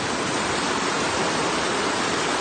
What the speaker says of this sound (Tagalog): umapaw ho yung tubig mula sa lagnas.